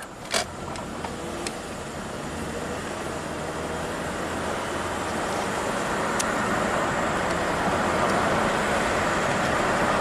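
A Toyota Camry drives along the road, a steady broadband rumble of tires and engine from inside the cabin, rising gradually in loudness with a couple of brief clicks early on.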